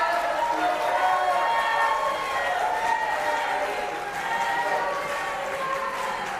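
A crowd claps and cheers for the candidates at the close of a televised gubernatorial primary debate, with steady, dense applause sustained throughout at moderate loudness and no speech over it.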